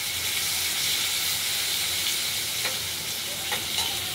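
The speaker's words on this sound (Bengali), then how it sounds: "এবার কেটে রাখা টমেটোগুলো দিয়ে দিলাম" Chopped tomatoes tossed into a pan of frying potatoes while cooking a boal fish curry, giving a loud, steady hiss and sizzle throughout with a few faint clicks of a utensil.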